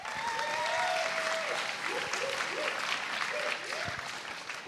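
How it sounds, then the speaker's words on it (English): Audience applause for a married couple, James and Helen: steady clapping from a crowd, fairly loud and continuous, with a few whistles and voices rising above it through to the end. "you should give them a big round of applause"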